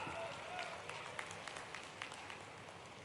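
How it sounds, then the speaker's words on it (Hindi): A crowd at a political rally in Madhya Pradesh claps in a continuous, fairly distant wash of applause, with scattered louder claps standing out and voices faintly mixed in. "आप ताली बजाओ तो मैं घोषणा करता हूं"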